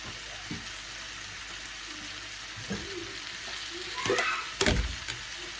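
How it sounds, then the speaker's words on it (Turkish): Beef sizzles and fries in butter in a pan, a constant soft hiss with a few stirring scrapes and louder crackles near the end, no talking. "Şimdi yaklaşık 10 dakikadır böyle kavurdum."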